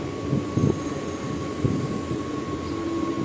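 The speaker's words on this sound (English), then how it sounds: "And I boarded this special train which is coming from Gatkasir and going towards Lingampalli." MMTS special train on its inaugural run from Ghatkesar toward Lingampalli, heard from on board: a steady low rumble of wheels and running gear with a constant electric hum, a few heavier thumps near the start, no talk.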